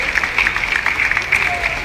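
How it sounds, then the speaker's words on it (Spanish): A crowd at an interuniversity sports games ceremony applauds in a steady, somewhat distant patter of claps, mixed with amplified talk. "un fuerte aplauso por favor"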